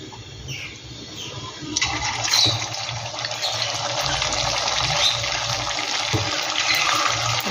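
Hilsa fish pieces go into hot oil in a pan and set off a loud, steady crackling sizzle that bursts up suddenly after a quieter start and keeps spitting close by.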